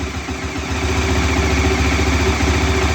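A Bajaj Dominar 400 motorcycle engine idling close by, a steady low throbbing pulse that rises slightly in level after the first moment and then holds even.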